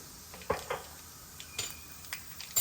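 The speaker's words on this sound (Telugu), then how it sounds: "మన ఆవాలు చిట్పట్ మనడం స్టార్ట్ చేస్తున్నాయి చిట్లుతున్నాయి అన్నమాట" Mustard seeds spluttering in hot oil while tempering for a fenugreek-leaf and tomato curry: a handful of sharp, scattered pops and crackles over a faint background hiss, close by with no talking.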